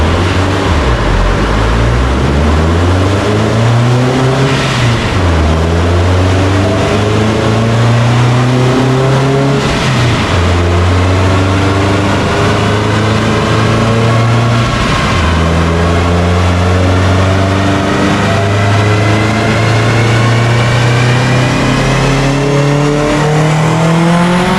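Subaru WRX making about 800 wheel horsepower, screaming through a dyno pull at close range, its engine note climbing steadily through the gears with brief dips at each shift, loud and continuous throughout.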